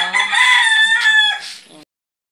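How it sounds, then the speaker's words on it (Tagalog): A single rooster crows loudly and close up, one long drawn-out call lasting nearly two seconds before fading into silence. "At may mga manok pa doon na dinig na dinig sa video."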